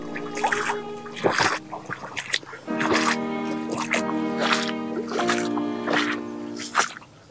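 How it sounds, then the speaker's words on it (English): Water splashes and trickles in irregular bursts as muddy walking boots are rinsed off outdoors on a countryside walk in the Test Valley, with drips and squishy splashes continuing throughout at close range. "I'm trying to wash my boots off here."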